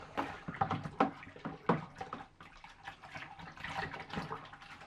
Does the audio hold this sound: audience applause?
no